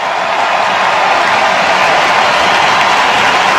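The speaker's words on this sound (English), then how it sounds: "The Blue Jay faithful cheering on Cease as he walks slowly and I assume very frustrated toward the Blue Jay dugout" A baseball crowd at a Blue Jays game gives a steady, dense wash of cheering and applause, loud and continuous, with no clear break.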